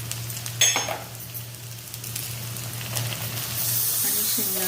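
Pigeon peas, peas and peanuts dropped into hot oil in a pan, a close crackling sizzle with a few scrapes and clinks, swelling louder near the end over a low steady hum.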